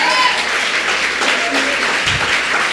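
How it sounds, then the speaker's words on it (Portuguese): A church congregation claps in a steady, fairly loud burst of applause filling the short moment, with no clear talk over it. "Dê uma salva de palmas por essa palavra."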